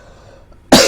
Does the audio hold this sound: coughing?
yes